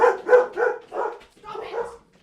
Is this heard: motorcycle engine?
no